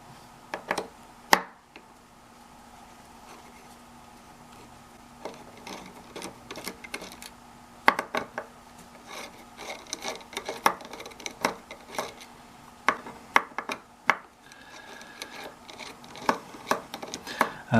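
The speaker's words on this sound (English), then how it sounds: "So let's take out these 5 screws." Screws come out of a Heizer Defense PAR1 pistol as a series of sharp metallic clicks and taps, scattered and irregular, over a faint steady hum in a quiet room.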